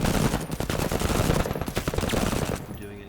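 Rapid bursts of gunfire in the tactical video game MENACE, dense overlapping shots with a machine-gun rattle, loud and close, thinning out near the end.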